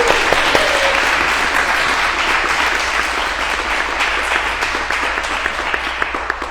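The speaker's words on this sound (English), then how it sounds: "let's give him a round of applause" A gathered audience gives a round of applause, with thick, continuous clapping that slowly thins, plus a few sharper claps near the end.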